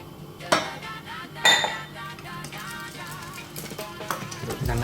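Stirring lumpia batter made with milk and flour by hand in a bowl: a spoon knocks sharply against the bowl twice, then lighter scraping and clinking sounds continue in an uneven rhythm.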